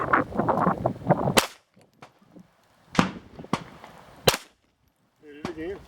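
A handgun fires at a target during a beginner shooting lesson, with about five sharp, loud cracks spaced a second or so apart, and people talking between the first shots.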